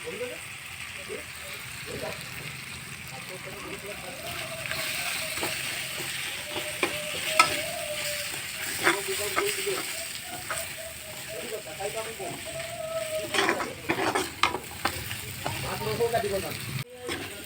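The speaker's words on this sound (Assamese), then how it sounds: "এয়া মোৰ এইখিনি মছলাখিনি ভাজি হৈ গ'ল" Spices with turmeric fry in a pan, a continuous close sizzle with scraping, clinking stirs of a spoon against the metal throughout, while a person talks over the cooking at times.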